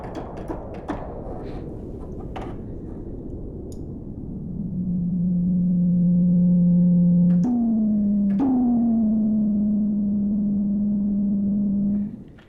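Hissing noise from an Arturia Mini-V4 synthesizer's noise feedback gradually settles into a steady sustained tone that abruptly shifts pitch twice before cutting off, with no voices.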